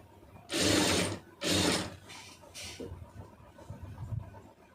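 Sewing machine stitching thread piping in two loud, close bursts of rapid mechanical chatter, then quieter clicks and handling noise as the fabric is adjusted, with no talking.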